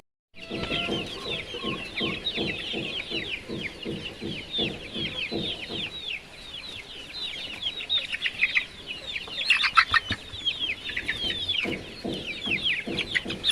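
Chickens cluck steadily at close range with dense overlapping calls, joined by a rhythmic low tapping through the first half and a brief sharper burst near the end.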